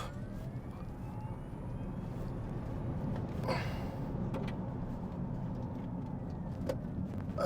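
2025 Hyundai Ioniq 5 N electric performance car accelerating hard in N Grin Boost mode, a steady loud synthesized drive hum and road roar heard from inside the cabin, sustained throughout with a few sharp ticks.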